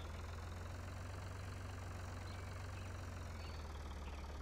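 A 50-horsepower tractor engine idles in the Farm Sim 2013 video game, a steady low droning rumble that holds constant throughout with no change in pitch.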